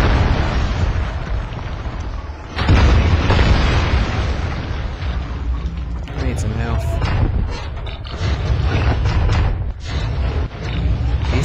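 In SpyHunter: Nowhere to Run, a loud game explosion erupts after a short lull, followed by a series of heavy booms and rumbling bursts mixed with mechanical clanks that keep rolling on.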